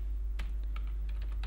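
A prompt being typed on a computer keyboard: a handful of sharp, irregular keystroke clicks, close by, over a steady low electrical hum.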